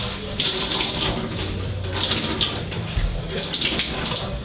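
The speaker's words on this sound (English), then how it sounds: "This is the third time I'm wringing out my shirt." Water splashes and drips in bursts as a sweat-soaked shirt is wrung out by a K1 kickboxer after training, three strong pulses of spattering liquid in close range.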